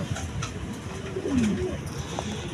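A pair of Mondain pigeons gives a single soft, low coo in the middle of a quiet stretch, heard faintly over light background noise.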